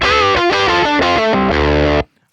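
Distorted electric guitar through an amp simulator on the Dirt preset of the Evil Robot pack, a thick, gritty sustained chord progression with edgy crunch that rings for two seconds and then cuts off abruptly.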